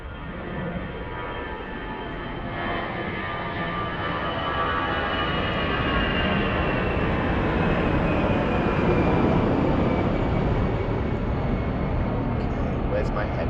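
A jet airliner rumbles at Lisbon Airport, a steady broadband roar that builds gradually over about thirteen seconds as the aircraft nears, with distant chatter in the background.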